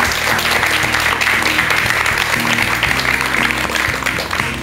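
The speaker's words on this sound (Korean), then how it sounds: "여러분 큰 박수 한번 좀 보내주세요" A Korean studio audience claps steadily throughout, a dense continuous round of applause with music playing underneath.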